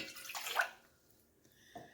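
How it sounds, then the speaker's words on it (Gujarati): A glass of water poured over mango seeds in a bowl, washing off the leftover pulp for fajeto; a short splashing pour that fades into quiet, then a brief second splash near the end. "1 ગ્લાસ જેટલું પાણી ઉમેરી લઈએ."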